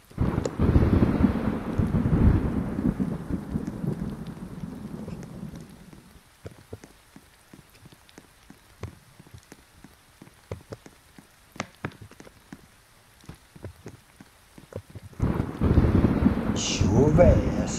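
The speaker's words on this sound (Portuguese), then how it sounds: "tô com medo da chuva aqui" Heavy rain pours down with rolling thunder, loud and dense at the start, dropping to scattered drips and patter in the middle, then surging back into a strong downpour near the end.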